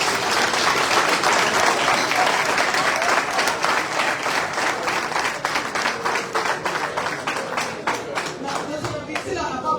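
Sustained applause from a large crowd at a political rally, dense and loud throughout, gradually thinning into scattered individual claps, with some voices mixed in underneath.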